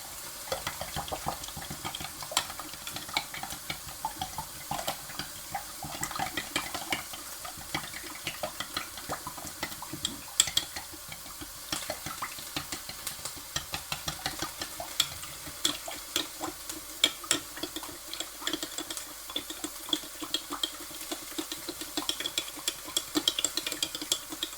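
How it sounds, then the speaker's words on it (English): Vegetables being stir-fried for prawn noodles, with a steady sizzle and frequent scraping, clattering strokes of a utensil against the pan that keep up for the whole stretch, close and fairly loud, with no talking. "Keep mixing the veg."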